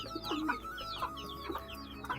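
Pigeons cooing and burbling nearby, several soft repeated calls in quick succession over a low hum of the surroundings.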